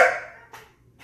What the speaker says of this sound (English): Quit barking.